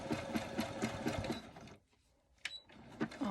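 A sewing machine stitches fabric for a journal pouch, whirring rapidly up close for under two seconds, then stopping and leaving faint clicks and handling noises.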